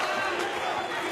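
A fight crowd roars after a spin kick, a dense, sustained cheer at a steady level, with no single voice standing out.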